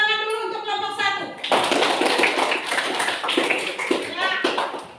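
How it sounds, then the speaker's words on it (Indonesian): Sustained classroom applause for a student group presenting in a church-studies lesson, dense broadband clapping from many hands that starts abruptly after a brief spoken phrase and continues steadily, close and loud. "Tepuk tangan dulu untuk kelompok 1"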